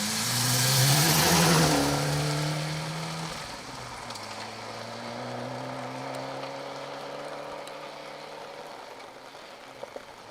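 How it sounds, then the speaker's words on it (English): A Ford Escort Cosworth rally car on a wet October stage in North Wales revs hard and climbs through the gears close by, then its engine drone eases off and holds steadily as it pulls away, with no talk. "That Escort Cosworth of Glyn Lyons, Joseph Patterson, is quite something, isn't it?"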